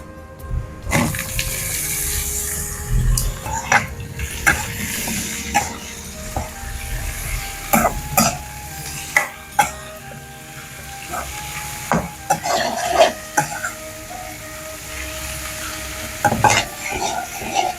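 Sliced onions and ivy gourd fry in hot oil in a pan, a steady sizzle broken by repeated sharp scrapes and clatters of a spoon stirring, close and fairly loud with no talking.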